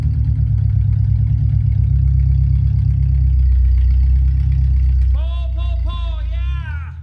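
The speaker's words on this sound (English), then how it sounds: "Get that tractor going." A tractor engine runs loud and steady at a close distance, giving a heavy, low drone throughout. Voices shout over it near the end.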